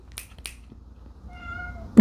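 A domestic cat gives a single clear, mid-length meow, close by and fairly quiet, after a couple of brief clicks, ending with a sudden low bump.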